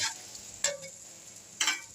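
Two short scraping bursts of a spoon stirring salted wheat rava upma in a pan, about a second apart, over a faint steady sizzle.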